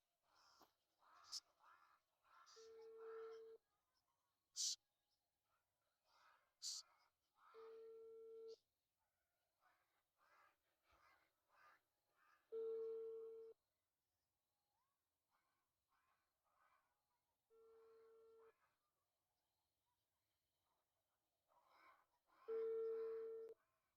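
An unanswered phone call rings out as a steady ringback tone that repeats in evenly spaced bursts, moderately loud, with faint chirps and small noises between the rings.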